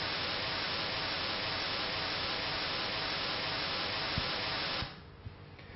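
Steady, dense hiss of white noise fills nearly five seconds, then cuts off abruptly to near silence.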